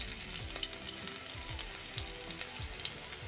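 Two dried red chillies crackle in hot oil as a tempering for a mustard greens dish, a close, busy sizzle with repeated spoon scrapes and stirring strokes throughout.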